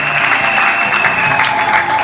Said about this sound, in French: Applaudissez pour la famille de Papa John